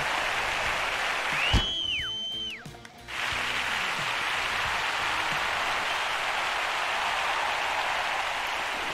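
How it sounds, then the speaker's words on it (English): A broad, steady roar of a volleyball video game crowd at a Cape Town venue fills the whole stretch, loud and continuous like heavy rain, with a brief whistle-like tone and a short dip partway through. "Crowd going wild in Cape Town."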